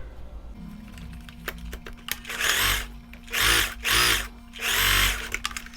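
A sewing machine stitches a zipper onto a flared skirt with a fly front, running in three loud bursts of about a second each. Quieter handling sounds fill the gaps between the bursts.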